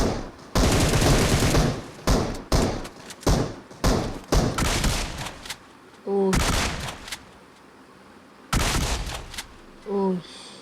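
Rapid bursts of automatic gunfire from the mobile game BGMI, loud and close, in several volleys separated by short pauses and brief electronic tones.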